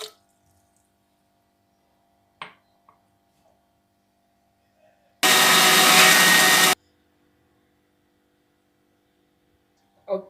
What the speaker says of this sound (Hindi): अब इसे ग्राइंड करेंगे हल्का सा पानी डाल के इसे भी